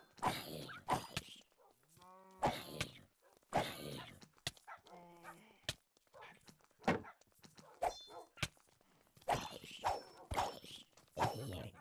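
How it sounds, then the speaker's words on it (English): Dogs barking in a video game, a run of loud, close, irregular barks mixed with other game creature noises and thumps, with occasional faint tonal effects between them. "it could be just the other dogs that I keep hearing"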